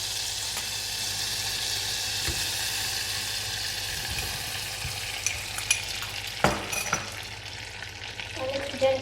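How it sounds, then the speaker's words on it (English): Butter and sugar heating in a pan for caramel, a steady close sizzle with spoon scrapes and stirring knocks growing more frequent toward the end. "mix it until the butter is melted and the sugar has dissolved"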